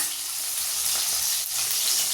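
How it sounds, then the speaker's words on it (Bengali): Fish frying in a pan gives a close, steady sizzle of hot oil with faint crackles and a slight stirring texture, and no speech. "মাছটা ভাজা হচ্ছে।"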